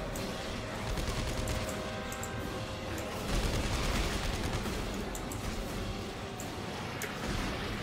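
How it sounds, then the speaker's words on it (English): Rapid gunfire from a weapon shooting the limbs off enemies in the video game Dead Space 3, a dense continuous burst of shots and impacts over game noise, loud throughout with no talk. "look how much faster that shoots his limbs off"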